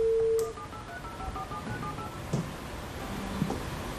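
A telephone number is punched in as a quick series of DTMF tones, short even beeps one after another, fairly faint.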